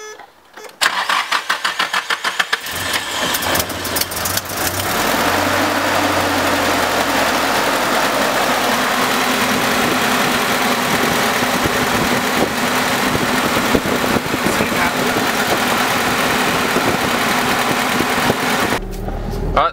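A Nissan S13 fitted with new headers cranks, catches and settles into a loud, steady, raspy idle that continues close up until a brief quieter break near the end.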